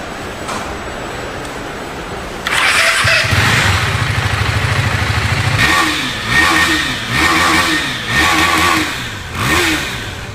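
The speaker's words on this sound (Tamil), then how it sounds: "வண்டியோட ஒரிஜினல் இன்ஜின் சவுண்டை கேளுங்க." A KTM Duke 390 motorcycle engine idles and then revs up repeatedly in loud, rising bursts, close and alone.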